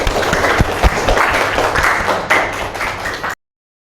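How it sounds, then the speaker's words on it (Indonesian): Students in an Indonesian physics class applauding together after presentations, a steady patter of many hands with a few louder individual claps, fairly close, no voices. "Beri tepuk tangan."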